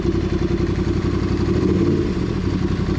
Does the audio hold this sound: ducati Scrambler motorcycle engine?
yes